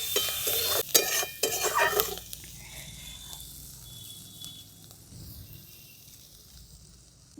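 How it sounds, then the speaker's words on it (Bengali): Ginger, garlic, green chili and spring onion frying in a pan, a soft sizzle with stirring scrapes that is busier at first and then settles into a faint, steady hiss. "হালকা করে ভেজে নেব একটু।"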